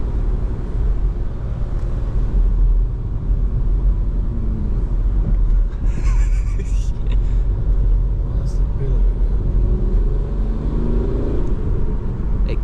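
A SEAT Ibiza car engine idles with a steady low rumble throughout, with people talking nearby over it.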